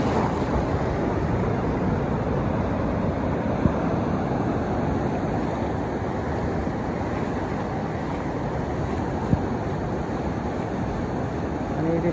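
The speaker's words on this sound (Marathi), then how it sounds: "समुद्राच्या लाटा." Sea waves wash up on a beach at about six in the morning, producing a steady, broad roar of surf mixed with wind rumble, with no breaks and no clear individual wave crashes.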